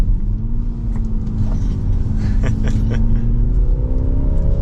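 A 2024 Mini Cooper S Countryman accelerates in sport mode, its engine note rising steadily in pitch under a continuous road rumble, heard from inside the cabin.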